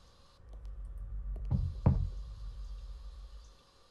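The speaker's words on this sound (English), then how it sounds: "Who's that knocking?" A couple of soft knocks on a wall sound in quick succession over a faint background hum, muffled and moderately quiet, with no voices.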